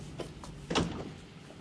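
A door closing inside a 1970s British naval drama interior, a single dull thud with a short burst of noise, fairly close, preceded by faint soft knocks or steps.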